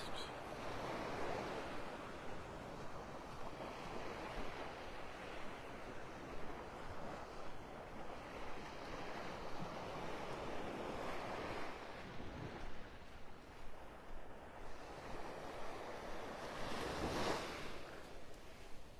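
Steady surf washes onto a beach in North Naples, Florida in the early morning, a continuous broadband roar of breaking waves with some wind rumble on the microphone and a brighter swell near the end, no voices.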